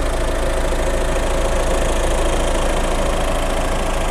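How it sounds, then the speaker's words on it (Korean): Peugeot 5008 second-generation 1.5 BlueHDi diesel engine idling with the bonnet open, a steady even hum and low knocking rumble, close and constant with no voices. "엔진 소리 일정하네요."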